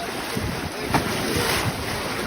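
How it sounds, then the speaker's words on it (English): Wild river rapids at Cedar Rapids on the Spanish River, heard close as a steady, loud broadband rush of churning water with wind buffeting the microphone, no speech. "These rapids are pretty wild."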